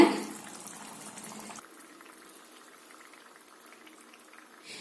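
Coconut fish curry simmers on the stove, a soft continuous bubbling burble close by that drops a little quieter partway through, with no talking.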